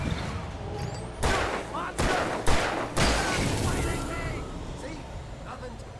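Gunfire in the video game Alan Wake, three or four heavy booming shots in quick succession that fade into a lingering rumble, with players talking around them.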